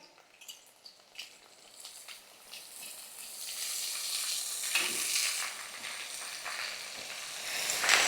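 Chopped spring onion greens frying in a pan over low heat on a home stove: a steady broadband sizzle that swells louder after a few seconds, with light stirring scrapes and no talk.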